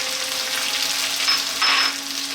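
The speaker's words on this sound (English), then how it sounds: "We're now going to put in our garlic ginger paste" Garlic ginger paste hisses and sizzles in a hot frying pan while cooking a vegetable biryani, a steady close frying hiss that swells briefly louder near the end.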